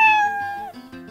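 A kitten gives a single clear, high meow that slides downward and fades, followed by a softer trailing cry, close and alone.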